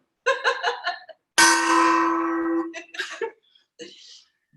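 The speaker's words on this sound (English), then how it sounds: "Get the gong out." A gong struck once during a casual video chat rings out loud with a long, shimmering sustain that fades over about two seconds, with talking and laughter before and after it.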